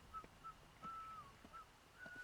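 Short tonal whistles repeat faintly in the video game Atomfall, a few brief notes and one longer held note spaced irregularly across a quiet background.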